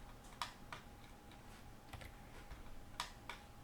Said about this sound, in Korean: 클릭, 클릭, 엔터 이렇게 읽었습니다